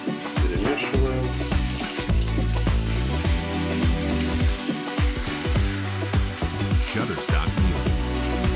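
Chicken fillet and golden onions sizzle and crackle steadily in a hot pan while a utensil stirs and scrapes, with soft background music underneath.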